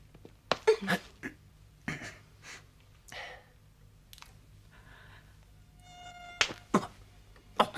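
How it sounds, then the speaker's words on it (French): Mosquitoes buzzing in a French kung fu action comedy film, a thin whining drone that comes and goes, broken by sharp nearby slaps, rustles and breaths, with a faint tone rising near the end. "Oh non, c'est pas vrai. Voilà les moustiques."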